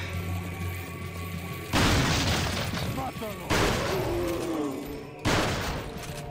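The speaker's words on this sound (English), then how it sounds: "We're using shotgun here." Shotgun blasts boom in Resident Evil 4, three heavy shots spaced a second or two apart, each followed by a ringing tail, amid game sounds and player talk.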